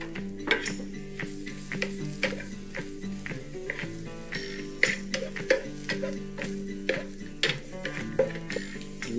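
Carrots are stir-fried in sunflower oil in a pan, with a soft sizzle under repeated scraping and clinking of a utensil against the pan in an uneven rhythm, close and moderately quiet.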